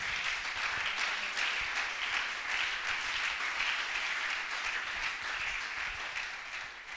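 A church congregation applauds to acclaim the Lord, a dense sustained wash of clapping from many hands, loud and steady, with no voices over it.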